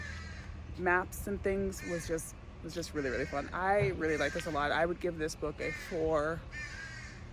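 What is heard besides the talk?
crows cawing outdoors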